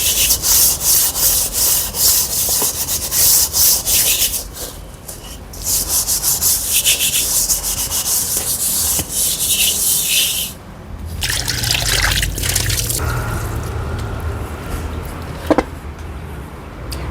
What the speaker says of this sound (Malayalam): ചട്ടിയും ബീഫും ഒക്കെ ഒന്ന് കഴുകിയിട്ട്